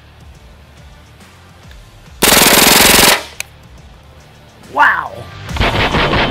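Hatsan Blitz full-auto PCP air rifle firing a rapid burst that lasts nearly a second, a loud continuous rattling stream of shots followed by a single sharp shot, with a man's brief exclamation and a second burst starting near the end.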